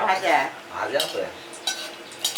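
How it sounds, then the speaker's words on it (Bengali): Elephant foot yam stalks fry with dried chillies in a pan, a soft sizzle under clinking stirs of a utensil, with a voice heard briefly at the start. "ওলের ডাটা ভাজা হচ্ছে"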